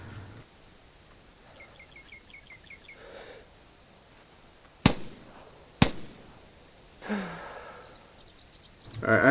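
Two sharp, isolated cracks from a semi-automatic .22 rifle, a couple of seconds apart, sounding out over quiet outdoor ambience with faint birdsong and light rustling.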